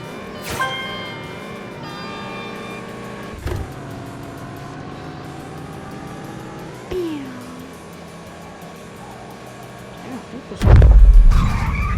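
A small car in a video game drives with a steady, tonal engine drone that shifts pitch as it speeds up, with a brief skid-like whine midway and a loud thud and rumble near the end.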